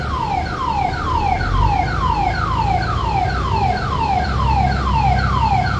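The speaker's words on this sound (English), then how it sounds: "The alarm's going off" A store alarm wails in a rapid, repeating falling sweep, about two cycles per second, loud and close, continuing steadily for several seconds with no speech over it.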